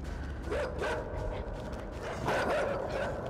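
Dog barks and yelps in a horror video game, two short bursts early and another cluster near the end, set against steady ambient game noise.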